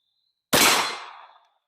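A Ruger LC Carbine in 10mm fires a single handloaded round with the stock folded, a sharp loud outdoor crack with a short decaying tail, alone with no voices.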